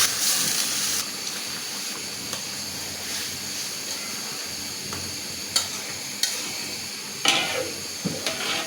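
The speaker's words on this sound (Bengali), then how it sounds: "আমি ঝোলের পানি দিয়ে দেবো" Water goes into a hilsa fish curry with radish. A hissing pour and sizzle in the pot fade to a steady simmer, then a few sharp clinks and stirring knocks land near the end.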